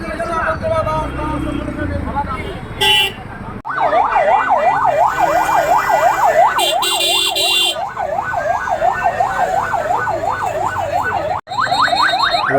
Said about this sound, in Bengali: এই অ্যাম্বুলেন্স বরিশাল থেকে লোকে নিয়ে যাইতেছে ঢাকায়